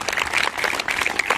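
Students doing a mass drill exercise clap together hard and steadily, a dense burst of many hands filling the space at close range with no talking.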